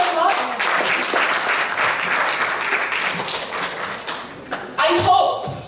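A seminar audience applauds in a room, moderately loud scattered clapping that thins out and is followed by a few thumps and taps, with voices and light laughter mixed in.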